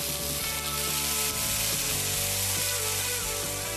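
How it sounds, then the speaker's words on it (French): Sliced potatoes frying in hot oil give a continuous dense sizzle with bubbling, steady and close, with no voices. "Plonge ensuite les pommes de terre dans l'huile."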